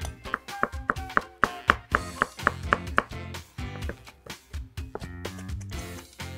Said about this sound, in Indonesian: Sekarang kita cincang cabenya.